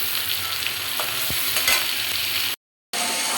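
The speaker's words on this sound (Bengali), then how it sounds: "একসাথে মাছ আর মশলা কষিয়ে নেব।" Poa fish and spices sautéing in a pan, a steady loud sizzle with scraping stirs and a few utensil knocks, close by with no voices.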